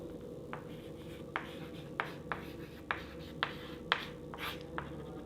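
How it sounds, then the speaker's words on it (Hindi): A pen or pencil is writing on paper close by during a botany lesson, making a string of short, crisp scratching strokes at an irregular pace over a quiet background. "एग्जाम्पल हिंदी में लिखती हूँ,"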